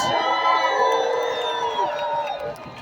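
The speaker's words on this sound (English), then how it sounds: "So give yourselves a round of applause." A crowd at an outdoor labor rally outside City Hall at Broadway and Murray Street cheers and whoops, loud and close at first, then easing slightly as the shouts trail off.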